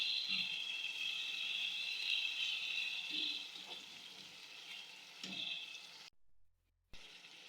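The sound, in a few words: garlic, ginger and green chilies being mixed in a frying pan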